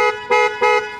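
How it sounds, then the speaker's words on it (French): Horns on a BMW E34 sedan, a set of four small horns behind a steering wheel without an airbag, blare in two loud, sustained bursts with a brief gap between them, close by. "Avec les 4 petits klaxons."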